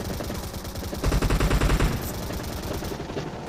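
Gunfire in PUBG Mobile comes as loud, rapid automatic bursts, with a tight, heavier volley of rhythmic shots in the middle over continuous battle noise.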